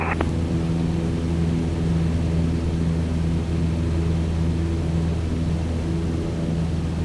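A propeller aircraft in a flight simulator game takes off from runway 25 during a VFR circuit. A loud, steady engine drone with a constant low hum holds throughout, with no voices.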